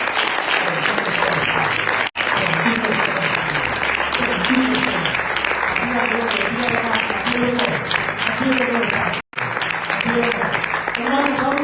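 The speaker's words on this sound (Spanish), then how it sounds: "Vamos a darle un aplauso fuerte a nuestro Señor." A church congregation gives a long, loud round of applause during a sermon, with steady clapping and crowd noise and voices mixed in, broken by two brief dropouts.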